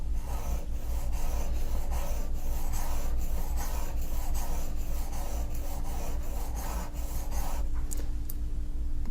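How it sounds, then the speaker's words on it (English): A steel engraving graver rubbed back and forth on a sharpening stone with the hand braced on a bench, making a steady, close rhythmic rasping scrape with regular strokes throughout. "rest the heel of my hand on the bench with the graver on top of the stone, and I'm simply going to rub back and forth, maintaining that 45-degree angle."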